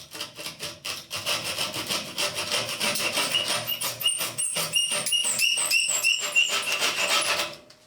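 A saw blade cuts a slot into a homemade mixer tap handle removal tool in quick, steady back-and-forth strokes, with a rasping scrape on each pass and faint squeaks near the end.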